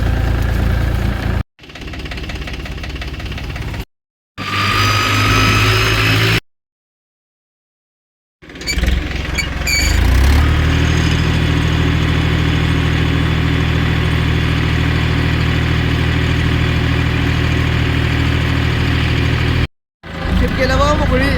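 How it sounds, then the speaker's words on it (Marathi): A farm tractor hauling a loaded trip runs with a steady, loud engine drone, broken by a few short gaps, then holds a constant close rumble for over ten seconds with no talk. "आपल्या ट्रॅक्टरने खेप करायच्या"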